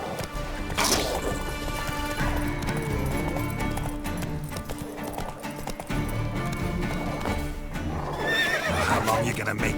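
Roach the horse gallops with rapid clip-clop hoofbeats and lets out a loud neigh near the start, amid crashes and other game sounds in The Witcher 3, with a second whinny toward the end.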